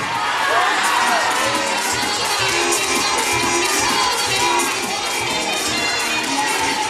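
Audience at a Ukrainian children's beauty pageant shouting and cheering in a loud, continuous roar, many young voices mixed together throughout, with no single voice standing out.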